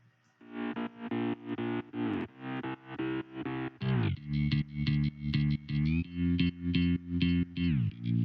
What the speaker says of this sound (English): So next is our mid bass